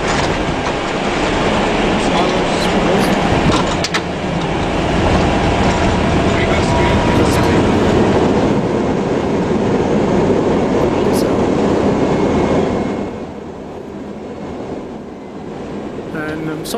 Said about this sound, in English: This is almost a picture-perfect landing in an A320.